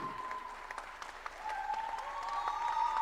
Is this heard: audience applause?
yes